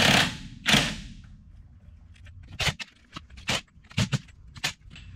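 Socket wrench work loosens 1¼-inch lug nuts on the front wheel of a 1988 Ford F700 dump truck. Two heavy breaking-free bursts come first, then quicker metallic ratcheting clicks and clanks at close range, with no talking.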